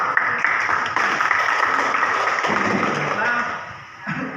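A classroom full of people applauding, a steady wash of clapping lasting several seconds before tapering off near the end.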